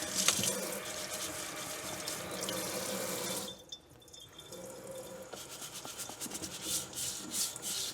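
A sweet potato washed under a running kitchen tap, steady close splashing water with rubbing as the skin is scrubbed, briefly easing off midway before the flow resumes and continues with light drips.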